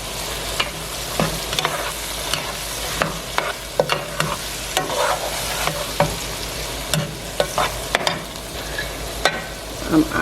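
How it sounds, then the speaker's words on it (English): Spiced shrimp stew stirred in a pot, with a steady stream of close spoon scrapes and small clinks against the metal over a soft, continuous simmering sizzle. "Give it a stir."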